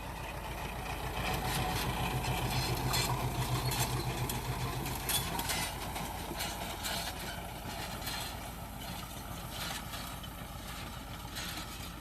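A tractor pulling a round baler through hay on a dry, sunny hay farm. The engine drones steadily at moderate distance, with a low hum and intermittent mechanical clatter from the baler, and no voices.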